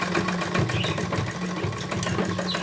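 A sewing machine stitches a homemade fabric face mask, giving a continuous rapid mechanical whirring and clatter with a steady rhythmic pulse, close and loud throughout, no voices.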